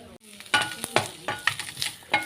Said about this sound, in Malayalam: ഇനി നമുക്കിത് നല്ലോണം വറുത്തെടുക്കണം